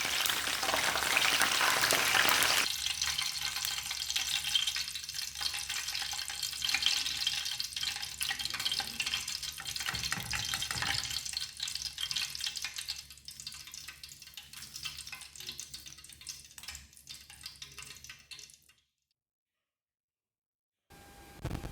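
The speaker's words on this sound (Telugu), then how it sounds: "తర్వాత కరివేపాకు కూడా వేసి వేయించాలి." Curry leaves frying in a pan for a green gram snack open with a loud hissing sizzle that settles into a quieter, steady crackle before the sound cuts to silence near the end.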